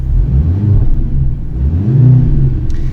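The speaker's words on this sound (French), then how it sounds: "écoutons le son moteur" The four-cylinder engine of a 2024 Mercedes C63S AMG revs loudly and up close, with two rising-and-falling swells in pitch over a deep, throaty rumble and no talking.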